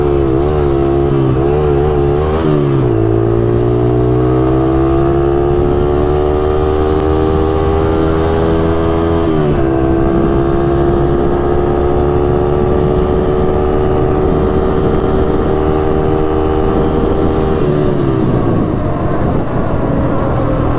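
A Honda ATC 200X three-wheeler's 200 cc engine revs hard during a top speed run, a loud continuous whine climbing in pitch through gear changes with brief dips, close and dominant throughout.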